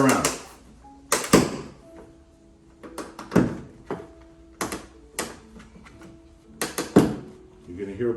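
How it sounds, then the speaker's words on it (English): Plastic clips popping into place while installing a Kumo, a series of sharp snaps at irregular intervals, close and fairly loud, with someone talking between them. "You're gonna hear a pop every time they go in."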